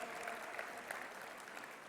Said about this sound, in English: give a round of applause to all the volunteers